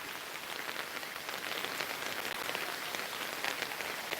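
Steady rainfall pours down outdoors, a dense, even hiss of drops striking surfaces that holds at a constant loudness throughout, with no voices or other distinct sounds over it.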